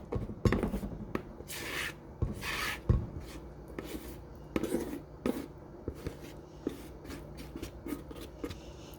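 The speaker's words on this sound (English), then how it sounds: "use a rubber scraper to get all that yummy goodness into the pan" A rubber scraper drags and scrapes brownie batter from a bowl into a baking pan, giving soft repeated rubbing and scraping strokes with occasional light knocks, close up and alone with no talk.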